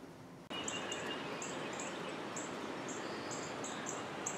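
Many birds chirp in short repeated calls over a steady, broad rush of floodwater flowing near a lakefront basement in early morning, with the water noise dominating and the bird calls bright above it.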